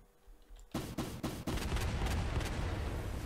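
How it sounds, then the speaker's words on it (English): Gunfire in an online shooter game: a few sharp shots, then a dense, loud burst of rapid fire that continues to the end, with no talking. "Someone just shot this way."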